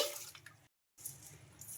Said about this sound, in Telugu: ఇంకా ఇందులోకి మంచి నీళ్ళు అయితే వేసుకోవాలండి మునిగే వరకు అయితే వేసుకోవాలి